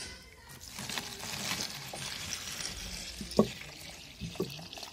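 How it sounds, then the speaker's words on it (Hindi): Water pours into a container while compost tea is being made, a soft continuous splashing and trickle heard up close and fairly quiet, with a couple of brief sharper splashes toward the end. "कंटेनर जो है वो आधे से कम रखना है हमें, और इसमें हमें वाटर डाल देना है।"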